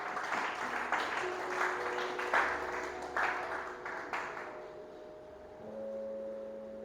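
Church congregation at a Sunday worship service clapping and cheering together in a steady mass of applause that swells and then thins, with a sustained organ-like tone running underneath.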